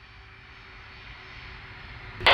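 Boeing 747-400 in Air Canada livery departing Hong Kong, its jet engines a steady, faint distant drone that slowly builds, ending in a sudden loud broadband burst.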